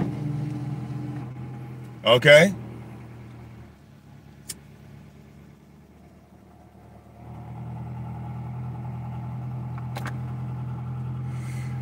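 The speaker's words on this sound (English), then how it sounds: "Engine sounds good." A 2002 Honda Accord with an overheating and coolant overflow problem idles steadily, a low even hum under a brief spoken word and a few small clicks.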